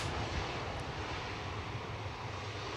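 KLM airliner on arrival to runway 18R at Amsterdam Schiphol, a steady broad jet engine roar held close and loud for the whole stretch, with no voices.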